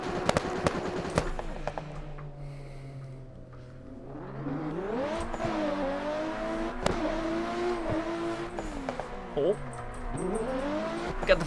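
Sports street cars in Assetto Corsa, an Evo among them, engines revving and climbing through the gears with sharp shift blips and occasional tire squeal, someone talking over the driving sounds.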